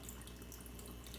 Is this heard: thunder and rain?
no